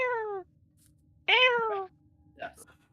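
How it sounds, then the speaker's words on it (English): A kitten gives three meows: a clear, loud one, a longer rising cry, then a short, fainter call near the end, each separated by quiet. "Does the kitten scream?"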